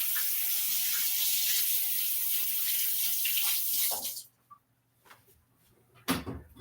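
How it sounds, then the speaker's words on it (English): Hands rinsed under a running kitchen tap: a strong, continuous stream of water for about four seconds, then it shuts off, followed by a few quiet clunks and a sharp knock. "let me quickly rinse my hands off"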